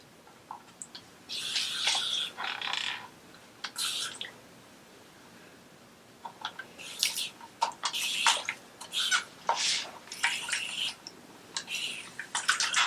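Water is sprayed onto mini braids in 4C hair in short hissing bursts, several quick squirts separated by brief pauses, close and fairly quiet.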